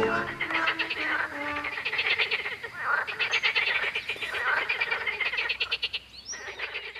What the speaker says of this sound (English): Male green frogs and tree frogs have particularly powerful voices.